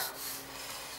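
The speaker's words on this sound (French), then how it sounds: "là mon mari est en train de poncer" Steady rasping friction of sanding on wood, a continuous scratchy hiss at moderate volume with no voices.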